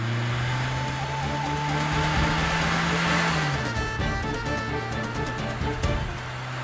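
A car driven fast, its engine a steady loud drone whose pitch dips midway and then carries on continuously, with no voices.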